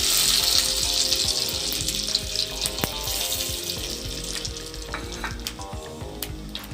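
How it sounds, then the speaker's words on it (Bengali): Whole cumin seeds hit hot ghee in a pan while a dhaba-style rajma is cooked, giving a loud bright sizzle that fades gradually, with small pops and a few utensil clicks. "ঘিটা গরম হয়ে গেছে, আমি এবার গোটা জিরে দেব।"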